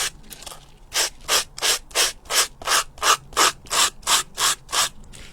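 Filing excess material off a craft piece, about twelve even rasping strokes in a steady back-and-forth rhythm, close and fairly loud, with no talk.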